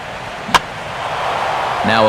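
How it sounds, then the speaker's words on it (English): Single sharp crack of a bat meeting a pitched ball for a foul in MLB 13: The Show, a baseball video game, ringing out once over steady stadium crowd noise, followed by a commentator's voice. "Now a ball hit foul off to the right and up into the crowd."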